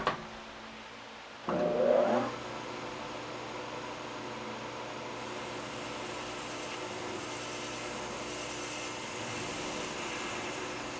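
A lathe parting off a custom live center part, heard as a steady mechanical motor whine and hum, a brief louder grinding burst as the cut engages, then continuous running noise.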